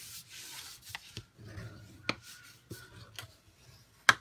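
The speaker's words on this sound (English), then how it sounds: "I'm going to just reinforce these again with my bone folder." A bone folder rubbed along paper box creases, soft scraping strokes at irregular intervals with occasional sharper taps, close and quiet with no talking.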